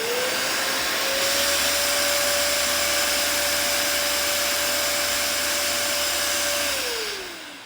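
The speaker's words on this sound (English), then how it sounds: "When you turn it on, you're gonna stick the hose directly into this, and this will clean the hose." Dirt Devil carpet cleaner running while it cleans its own hose, a loud steady motor roar with a constant whine that starts up, holds for several seconds, then drops as the motor slows.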